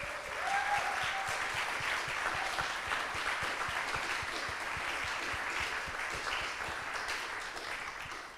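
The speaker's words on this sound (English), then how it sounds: "So please share a round of applause for the MA students." Sustained applause from an audience at a university MA short film festival awards ceremony, a steady, full wash of many hands clapping at even loudness throughout, with no voices over it.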